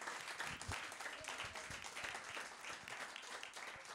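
A crowd applauds and cheers at a church music group's presentation, with steady clapping filling the room from start to finish.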